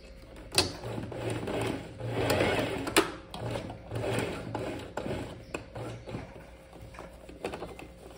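A sewing machine stitches a hem along the bottom of a handmade princess-style blouse, its motor running in steady bursts with rhythmic mechanical ticking and short pauses between runs, close and clear with no talking.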